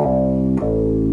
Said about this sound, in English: So for the bass, I used this sound here.